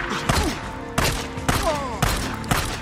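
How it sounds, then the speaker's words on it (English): Gunfire in the video game Days Gone, a series of sharp, close shots spaced roughly half a second apart with whooshing, descending tails between them, loud and steady throughout. "As he's getting riddled with bullets"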